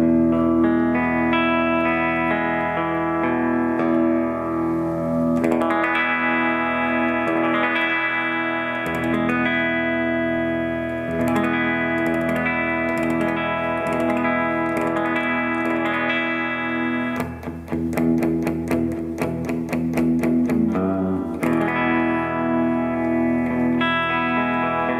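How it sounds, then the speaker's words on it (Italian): A Kramer Baretta Special electric guitar plays straight into an amp with all EQ at midpoint and no effects, sustained ringing chords with a burst of quick strums partway through, loud and close with no talking. "La chitarra adesso è collegata all'ampli con valori di equalizzazione tutti a 5, quindi tutti a metà. Ed è collegata senza effetti assolutamente"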